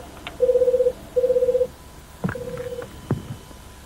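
A telephone line to a doctor's home sounds two long buzzing tones, then a third shorter tone broken by clicks and bumps of the handset, close and clear, with no voices.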